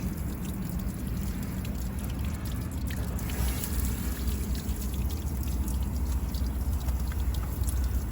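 Water keeps flowing and pouring steadily out of an uncontrolled outlet, a constant near rushing trickle without pause and with no voices.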